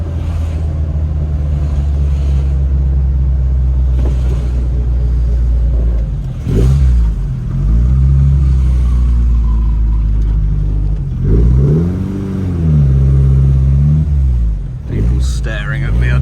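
A Lotus Elan engine runs with a deep, steady rumble, swelling in several throttle blips that keep it from stalling, close and loud throughout.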